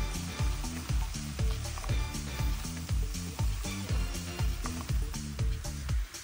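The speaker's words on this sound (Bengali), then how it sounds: "এবারে রান্না করে রাখা ভাতটা দিয়ে দিচ্ছি, অ্যাড করে দিচ্ছি ডিম, সব কিছু ভালো মতো এবার মিক্স করে নেব।" Cooked rice and egg being stir-fried for Thai-style vegetable fried rice in a hot pan, with a loud, continuous sizzle and a regular rhythm of spatula scrapes and tosses, about two per second, and no voices.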